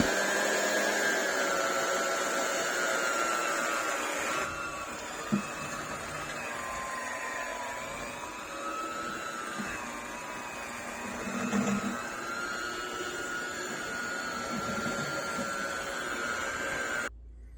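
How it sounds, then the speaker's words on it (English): An electric mixer whirs through cream cheese cheesecake batter (Philadelphia cream cheese) in a steady, close, continuous drone, its pitch wavering slightly as the speed and load shift. "So we get in here with the mixer, we start mixing it up."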